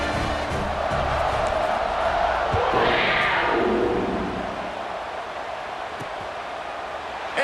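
Stadium crowd noise in EA Sports College Football 26 during a Kentucky vs Louisville game, a continuous loud roar that swells to a peak midway, then settles into a lower buzzing hum with a few thumps.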